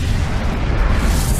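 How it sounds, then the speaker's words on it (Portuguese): A deep, sustained roar of a supernova, the colossal explosion of a star at the end of its life, fills the clip as a loud, continuous rumbling boom with no voices. "A supernova é a explosão colossal de uma estrela no fim da vida."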